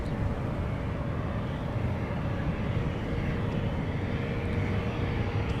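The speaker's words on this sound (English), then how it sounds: "So I think we're going to get back-to-back heavy arrivals on the south parallel runway." A heavy jet arrives on the south parallel runway at Minneapolis–St. Paul airport, a steady, broad engine roar that holds at even loudness from a moderate distance throughout.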